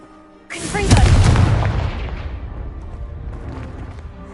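A Confringo fire spell explodes in a Hogwarts game with one sudden, loud, close boom. The blast decays into a long rumbling tail over a few seconds.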